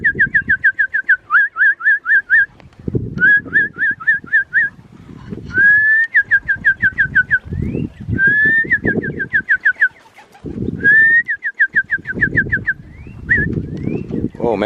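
Young racing pigeons out flying for the first time, their flight heard as repeated bursts of whistling, rhythmic wing-flutter near and loud, broken by short gaps and low rumbling handling noise.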